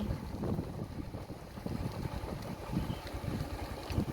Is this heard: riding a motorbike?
yes